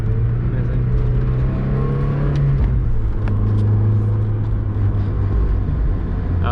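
A Mazda Miata's engine hums steadily from inside the car while driving along a creekside road, a loud constant low drone with slight shifts in pitch and road rumble underneath.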